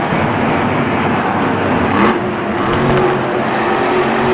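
A Monster Jam monster truck spinning a donut in the Houston arena roars with a loud, sustained engine rev that surges and eases over a few seconds, with no talk over it.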